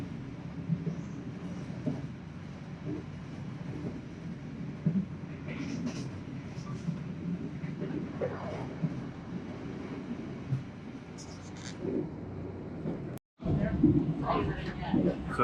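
Steady rumbling interior noise of a moving passenger train travelling to Yogyakarta, a continuous low drone with faint rattles throughout, and people talking over it.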